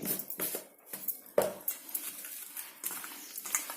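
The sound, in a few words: mixing mutton pieces with chilli powder and salt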